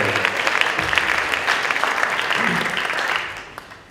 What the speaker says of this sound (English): Have another round of applause for everybody up here.